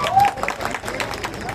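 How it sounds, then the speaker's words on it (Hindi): An audience claps in scattered, irregular applause at moderate loudness, with a voice speaking faintly underneath. "मैं चाहूँगा आप लोग एक बार मेरे बाबू के लिए ताली बजा दीजिए"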